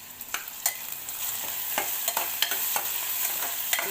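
Onions frying in a pan with a constant close sizzle, broken by repeated sharp clicks and scrapes of a spatula stirring against the pan at an irregular pace.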